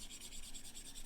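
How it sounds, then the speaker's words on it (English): An eraser rubs back and forth over a pencil drawing in quick, even strokes, a soft close scrubbing that repeats rhythmically without any talk. "with the eraser."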